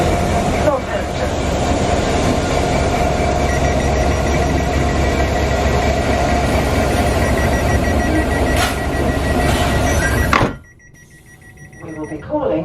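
An eight-coach London Northwestern Railway passenger train bound for Northampton, heard from on board as a loud, steady rumble of wheels on rails that drops off sharply near the end.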